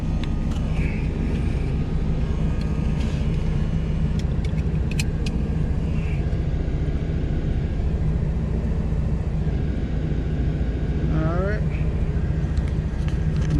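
Steady low engine and road rumble of a Cutlass car driving on a South Carolina road, with a constant drone and faint higher whine throughout.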